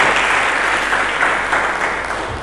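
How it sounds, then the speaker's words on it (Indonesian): Applause from a church congregation during a sermon, a dense continuous wash of many hands clapping together, steady and fairly loud throughout before easing slightly at the end. "Berikan tepuk tangan yang lebih meriah kepada Yesus Kristus."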